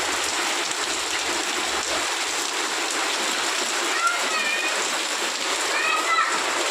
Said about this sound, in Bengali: কি বৃষ্টি দেখো, ঝমঝম করে বৃষ্টি নেমে গেছে